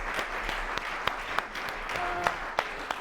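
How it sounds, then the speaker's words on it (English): Audience clapping after a public lecture, a close, moderate round of applause with distinct individual claps standing out over the steady patter, a brief tonal sound partway through. "Please give him another round of applause."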